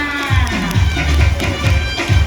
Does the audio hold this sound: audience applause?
yes